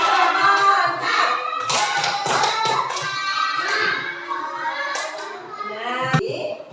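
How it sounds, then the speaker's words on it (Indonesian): Schoolchildren in a classroom perform a rhythmic clapping chant with their teacher, taps and claps mixed with children's voices chanting together, steady and close throughout, ending in a brief thump. "Ini adalah tepuk semangat."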